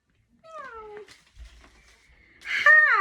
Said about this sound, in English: Can you meow like a cat?